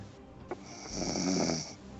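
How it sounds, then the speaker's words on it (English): A person snoring, one long rasping breath building and fading nearby after a brief click, with no talk over it. "Oh, someone's snoring."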